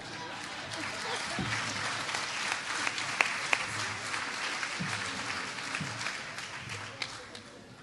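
Audience applause at a chamber of commerce annual banquet, a steady wash of clapping from a crowd at moderate distance with a few sharper individual claps, fading toward the end.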